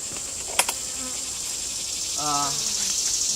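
Honeybees hum from an open multi-colony hive box, a continuous thin buzz close by throughout, with a couple of faint clicks and light handling sounds.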